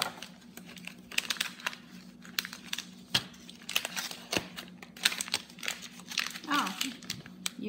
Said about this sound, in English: they have this thing for you to peel